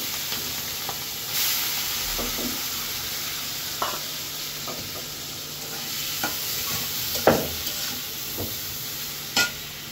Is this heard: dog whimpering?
no